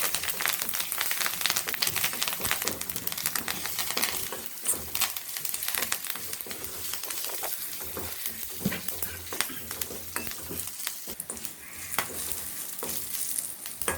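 Curry leaves, ginger, green chilli and asafoetida sauté in hot oil after mustard seeds have popped, giving a steady, dense sizzle with scattered crackles and stirring clicks throughout, no voices.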